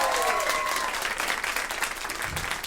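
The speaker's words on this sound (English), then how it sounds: "A round of applause for Zoe." An audience applauds steadily at a live podcast taping, a dense, sustained spread of clapping with some faint voices mixed in near the start.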